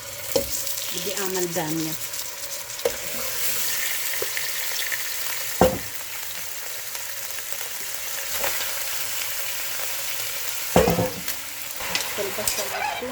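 Meat sizzles in a spoonful of local ghee in a home kitchen pan: a steady, close frying hiss with occasional utensil clicks and stirring, and someone speaks briefly over it.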